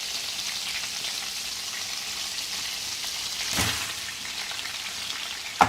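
Onions turning brown as they fry in a pan, an even close sizzle with rain-like crackle, a brief surge of stirring midway and a small knock at the end, no speech.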